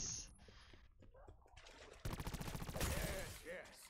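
Rapid bursts of gunfire from the video game Call of Duty, loud stuttering volleys that grow denser midway, with game sounds layered underneath.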